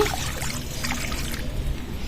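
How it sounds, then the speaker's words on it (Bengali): Water trickles and pours steadily into a kadai in a village kitchen for soaked yellow pea dal, a continuous close, moderately loud splashing wash with no speech. "কড়াইতে জল দিয়ে দিচ্ছি"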